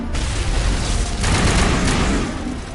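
Dense, loud gunfire in the shooter Mass Effect Legendary Edition, with rapid overlapping shots and blasts merging into a constant roar for a few seconds.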